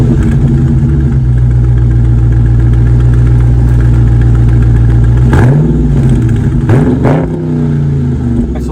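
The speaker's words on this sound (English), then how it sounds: "And the exhaust, easily one of the best on the market." A deep, burbling exhaust on a 2021 Dodge Charger Widebody Scat Pack idles loudly and steadily, then gives a couple of quick throttle blips toward the end before settling back.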